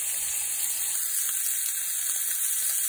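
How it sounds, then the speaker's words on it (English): Fat from a bottom round roast sizzles and fries steadily in a hot pan, a dense continuous crackle close up with no talking. "Hear that fat cinder sizzling, starting to render."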